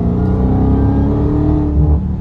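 A 2023 Dodge Charger Hellcat Redeye Jailbreak's supercharged engine rumbles loud and close, a deep throaty roar that swells and eases through a short rev with no talk.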